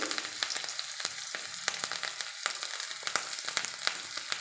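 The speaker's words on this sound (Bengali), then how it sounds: "ভালো করে ভেজে নেব।" Soybean chunks fry in a pan with spices and ginger paste, giving a close, steady sizzle broken by frequent light clicks and scrapes of stirring.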